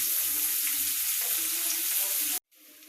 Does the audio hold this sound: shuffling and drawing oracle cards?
no